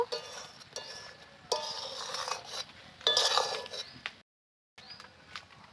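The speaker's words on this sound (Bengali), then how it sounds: "আবারও একটু নেড়ে চেড়ে দেব" Olive pickle (jalpai achar) being stirred in a pot: several bursts of scraping, clinking metal against the pot, a brief silence, then a little more stirring, close and moderately loud with no talk.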